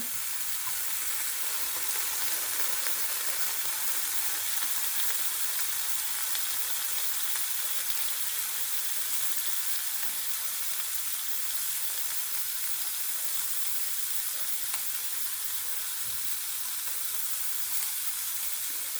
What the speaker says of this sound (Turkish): Ben biraz fazla kızarmış sevdiğim için biraz daha kızartacağım diğer tarafını.